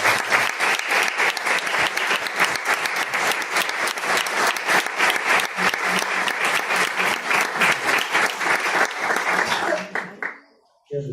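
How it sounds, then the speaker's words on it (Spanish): Audience at a Spanish-language book presentation breaks into strong, sustained applause, dense steady clapping filling the room for about ten seconds before it abruptly dies away. "con un fuerte y merecido aplauso por todo su labor"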